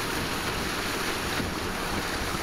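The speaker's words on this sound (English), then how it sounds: "Here you can see some more water coming in to the canal." Water pouring into a canal, a constant broad rushing wash mixed with wind noise on the microphone, with no speech.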